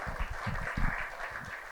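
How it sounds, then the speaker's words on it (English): At a conference panel discussion in Dubai, the audience applauds in a soft, even wash of clapping, fairly distant and sustained, with faint low thumps underneath. "Give them a round of applause because they did such great insight"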